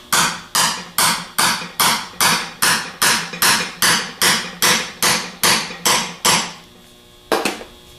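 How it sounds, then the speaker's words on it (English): Repeated metal-on-metal tapping as a bushing is driven down with a tool during a 42MT starter build: about fourteen evenly spaced, sharp strikes close up, then a pause and one last blow. "Then we're going to set the bushing down in there and tap it down"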